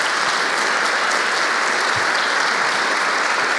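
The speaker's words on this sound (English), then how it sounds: "Judge Amara Rosano, if you'll give her a round of applause" An audience at a city's State of the City event applauds a new municipal court judge, loud, dense and continuous clapping that fills the room evenly throughout.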